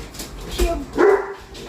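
Dogs bark at roofers working next door: a couple of short, fairly close barks and a whining yelp inside a house, with quiet background noise between them.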